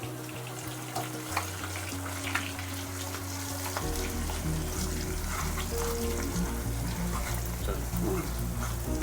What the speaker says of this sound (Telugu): ఈ మసాలా ఇలా కొద్దిగా ఫ్రై చేసుకున్నాం ఒక రెండు నిమిషాలు